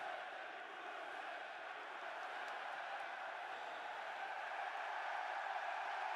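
A large esports arena crowd at a CS:GO match roars in a sustained, dense wash of cheering that holds steady throughout with no break.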